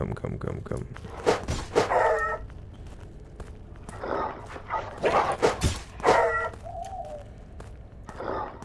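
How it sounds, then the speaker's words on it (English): A zombified dog in the monster-hunting game Witch Hunt gives several short barks and yelps scattered through the scene, mixed with someone talking. "I wonder if the more zombified dogs are stronger than our standard Rottweiler."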